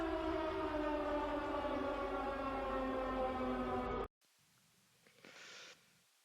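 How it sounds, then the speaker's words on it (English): A civil defense style siren wails loudly and continuously for about four seconds with a steady harmonic tone, then cuts off abruptly, leaving faint breathy noise. "Do you hear those sirens?"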